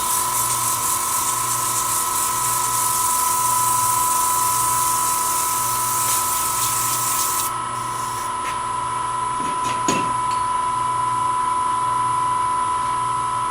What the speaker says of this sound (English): And our little reciprocal sander.